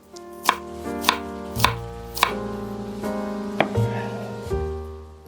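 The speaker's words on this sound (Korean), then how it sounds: "적양파는 가로 방향으로 반을 자르고 한쪽은 잘게 썰어주세요." A knife chops a red onion steadily on a cutting board, several sharp evenly spaced strikes, over a background of soft music.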